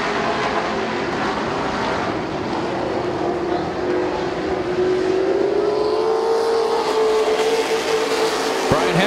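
Race cars roar around a dirt track at a local racing event, engines droning continuously with a rising pitch sweep as they pass, the crowd-like rumble steady throughout.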